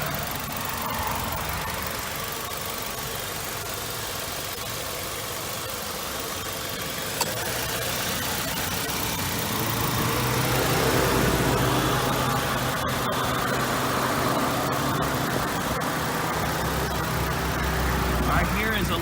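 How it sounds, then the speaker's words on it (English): A 2003 Nissan Altima S with a 2.5-liter engine idles steadily, heard from close by as a smooth, even mid-toned hum with a faint rise partway through. "Now let's hop out and listen to the motor."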